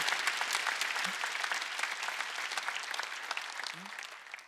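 Church congregation at a Wednesday worship service applauding, a bright, continuous burst of many hands clapping that holds steady and then tapers slightly toward the end, with no talk over it.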